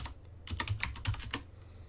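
Quick keystrokes on a computer keyboard as a command is typed into a CentOS terminal, a close burst of about a dozen clicks over a low steady hum, with no talk.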